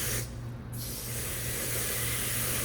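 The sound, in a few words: spraying water on an air filter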